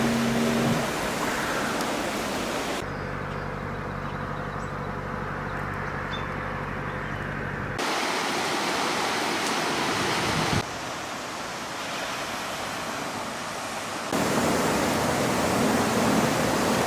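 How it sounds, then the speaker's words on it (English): Water in Pleasant Creek near Cumberland flows in a steady broadband rush, close and continuous, shifting in tone and level across several abrupt cuts, with no voices. "enjoying this Pleasant Creek, Cumberland"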